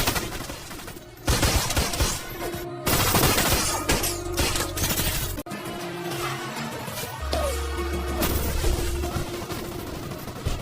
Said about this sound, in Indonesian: Sementara polisi Sanchez yang kebetulan berada di sana langsung beradu tembak dengan Luke.